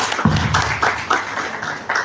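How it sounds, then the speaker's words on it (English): A seminar audience at a live financial leadership masterclass claps in a short, sparse burst of several separate hand claps, fairly close and thin rather than a full ovation. "I think we should clap again"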